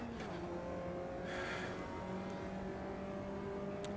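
A Caterham race car in the Automobilista 2 racing game accelerates hard up a hill at Donington in third gear, its engine a steady droning whine held at high revs, fairly quiet and without talk.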